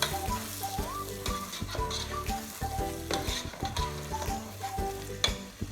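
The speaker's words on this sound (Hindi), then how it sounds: "इस मसाले को अब 2 मिनट के लिए अच्छी तरह मैं भून लेती हूँ।" Masala for fish curry frying in a pan: a crackling sizzle mixed with frequent scraping and knocking of a spoon stirring against the metal, close and moderately quiet, with no speech.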